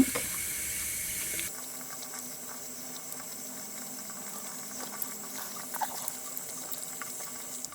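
Tap water runs into a sink as a fresh tattoo is washed, a loud close rush at first that drops to a softer steady trickle with small splashes and dripping, and nobody talks.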